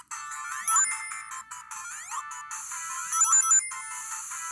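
Bright chiming ring-collecting pickup sounds from a video game on a Q20 Mini handheld repeat rapidly, glittering and high-pitched, with quick rising blips layered over a steady electronic tone.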